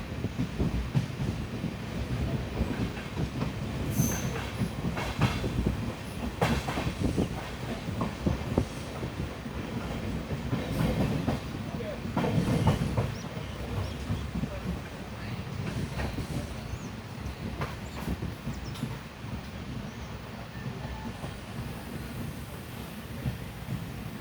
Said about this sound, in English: Looks like we'll be making an unscheduled halt here at Tirupati station for crossing the Rameshwaram Madurai passenger.